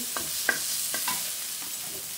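Chicken pieces sizzle and brown in a pan for tinolang manok, a soft steady frying hiss broken by a few light stirring clicks, close by with no voices.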